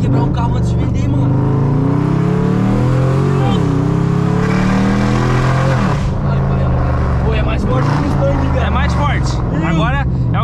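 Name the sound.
Peugeot 406 car accelerating and revving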